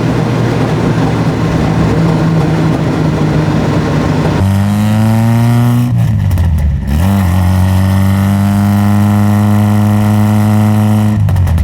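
An Alfa Romeo 33 race car driven on a public road gives a loud, close engine roar, a steady drone that jumps in pitch as it revs, dips briefly around a gear change, then climbs and holds again with no voices.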